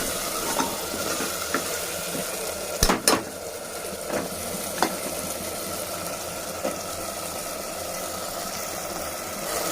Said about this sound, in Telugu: ఇప్పుడు పచ్చి బఠానీ వేస్తాము కలుపుకుంటున్నాము